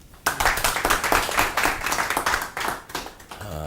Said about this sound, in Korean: 자, 박수로 좀.